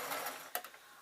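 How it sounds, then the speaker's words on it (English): Short burst of a sewing machine stitching over string on a fabric grab bag with lining and interfacing, a quick mechanical whir with a couple of ticking clicks, quiet and close. "the reason I'm sewing over the string is to make it easier for me to turn it around"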